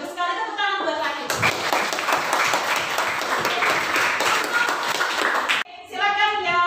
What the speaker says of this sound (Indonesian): tepuk tangan buat Radit